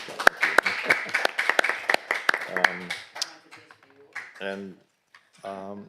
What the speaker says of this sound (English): So I think we should give him a good round of applause.